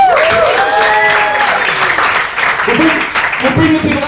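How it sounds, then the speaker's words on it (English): A crowd at an improv comedy show in a Madrid bar applauds an improviser, with steady clapping and cheering throughout, voices mixed into the noise. "we have a very big round of applause for Mr."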